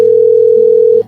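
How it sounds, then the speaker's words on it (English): A telephone ringback tone plays during an unanswered call, a single loud, steady tone lasting about a second before it cuts off. "Just rings. It's been ringing forever."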